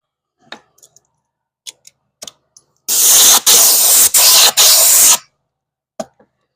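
Aerosol clear coat sprayed onto a Porsche wheel after curb rash repair, four close loud hissing bursts separated by short gaps, with faint clicks and handling noises before and after.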